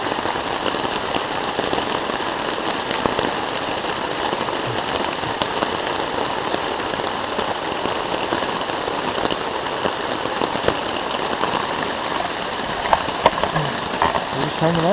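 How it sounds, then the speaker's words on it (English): Hard rain streams down through a wooded canopy onto a tent at a backcountry camp, an even, continuous hiss of dense drops with occasional louder pattering hits, no talking. "You know it's raining hard if it's coming through all those trees."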